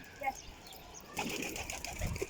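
Pigeons flutter their wings and coo softly near people feeding them, a brief burst of flapping and soft calls following a quieter opening, with faint background voices.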